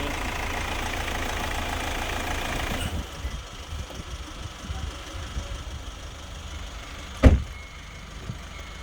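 A car engine idles with a steady low rumble for about three seconds, then shuts off, leaving a quieter hum. A sharp thump follows, likely a door, near the end.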